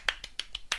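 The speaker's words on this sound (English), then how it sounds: "Okay, so, round of applause." A handful of sharp, separate claps spaced evenly apart, five crisp close hits with quiet gaps between them, from a small gathering during a live chat.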